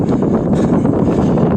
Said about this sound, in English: That wind is whipping.